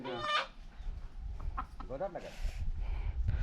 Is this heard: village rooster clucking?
yes